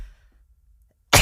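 A single sharp human sneeze bursting out loudly at the very end after near silence.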